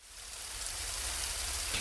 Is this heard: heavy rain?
yes